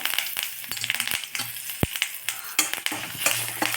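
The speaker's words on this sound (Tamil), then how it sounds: "கடுகு பெருங்காயம் ஒரே ஒரு மிளகா கிள்ளி போட்டுக்கலாம் இதில் மிளகா தாளிச்சிட்டு நாலு கருவேப்பிலை" Mustard seeds, asafoetida, a pinched chili and curry leaves tempering in hot oil, giving a close, irregular popping crackle with sharp spits scattered through the sizzle.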